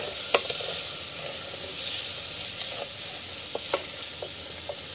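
Tomatoes sauté in a pot set over a wood fire, giving a steady soft sizzle and hiss throughout, with a few faint clicks and pops from the pan and the fire.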